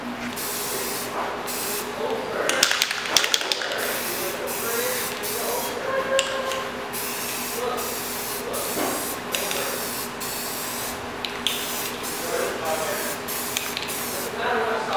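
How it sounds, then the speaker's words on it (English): Aerosol can spraying black paint onto a rollbar in short, hissing bursts with brief pauses, close and fairly quiet, with faint clatter between sprays. "I'm gonna touch it up just a little bit more with this black paint"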